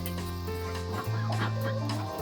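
A broody hen on her nest makes low, drawn-out clucks and soft grumbling calls, close and continuous, with farmyard background around her.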